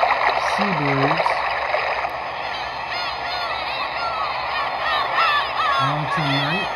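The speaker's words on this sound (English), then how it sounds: "seabirds," A sound machine's seabirds setting plays repeated honking bird calls, one group early and another near the end, over a constant wash of surf-like water noise.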